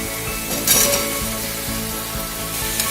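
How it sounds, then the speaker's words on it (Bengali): Potatoes hitting hot spiced oil in a pan, being sautéed for a Bengali chal potol dish, give a steady close sizzle with a stir and a brief louder hiss, under low-pitched repeating tones. "আলুটা দিয়ে কিছুক্ষণ আমি কষাবো"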